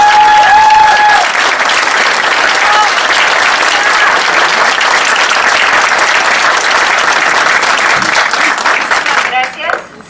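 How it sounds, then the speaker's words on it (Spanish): Sustained, loud audience applause for Enid Rivera at a gathering, dense clapping from a crowd that fills the whole stretch before fading at the very end, with a few voices mixed in. "quiero que le den un fuerte aplauso a Enid Rivera"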